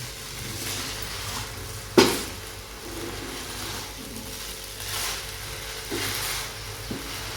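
Cooked rice being stirred with sugar in a pan for Narali Bhat, a Marathi coconut rice dish: soft steady sizzling and scraping throughout, with a sharp clink of a utensil near the start and quieter knocks later.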